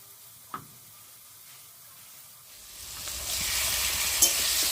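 Vegetables frying for a cabbage dish with ground cumin-ginger paste, a quiet start with a single knock, then a broad hiss of sizzling that swells and stays steady to the end.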